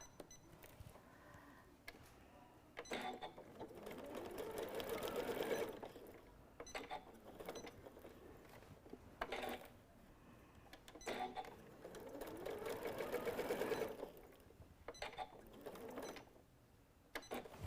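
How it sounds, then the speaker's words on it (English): A sewing machine top-stitches around fabric edges for a stuffed nativity scene, with two long, close stitching runs that each swell to a steady whir, separated by quieter pauses and handling sounds. "you can top stitch around the 3 edges so that everything is nice and flat"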